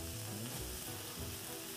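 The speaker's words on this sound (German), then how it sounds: "Ich brate jetzt die Hackbällchen von außen mit viel Röstaroma." Meatballs and salsiccia fry in a pan with a steady, close sizzle that stays even and continuous throughout.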